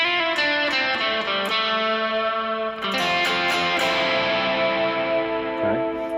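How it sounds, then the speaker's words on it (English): Electric guitar played through a worship rig with added gain and a volume boost, sustained distorted chords ringing with chorus and echo effects, loud and continuous with a few restruck strums. "This is going to add a little bit more gain and a little volume."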